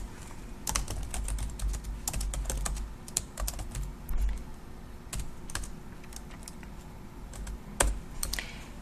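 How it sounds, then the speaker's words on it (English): Rapid typing on a computer keyboard while entering a street address, with irregular bursts of close, crisp key clicks and brief pauses between runs, heard alone with no talking. "Type in your address."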